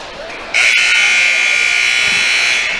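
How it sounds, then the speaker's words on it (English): A college basketball game buzzer sounds at halftime of YU Macs vs. NJCU, a loud, steady electronic drone lasting about two seconds over a low arena crowd murmur. "There's the buzzer."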